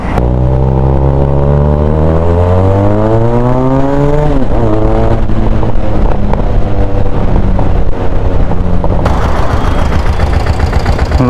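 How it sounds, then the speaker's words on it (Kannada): A diesel-engined Royal Enfield motorcycle from Kerala revs hard and close. Its pitch climbs steadily, drops sharply, then settles into a rough, throbbing run with no voices over it. "That's a diesel engine, right?"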